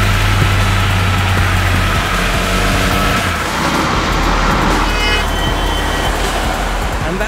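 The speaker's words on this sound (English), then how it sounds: "The triple-cylinder 1215cc engine certainly makes for entertaining performance" A Triumph Tiger Explorer XCX touring motorcycle with a 1215cc triple-cylinder engine is ridden along, its steady engine drone blended with heavy wind and road noise for about seven seconds.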